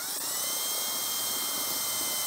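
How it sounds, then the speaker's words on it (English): A power drill with a 3/32 drill bit bores a mounting hole for an RV tail light, a steady high-pitched whine that holds a constant tone for a couple of seconds with no talking. "I'm just going to drill this with a 3/32 bit"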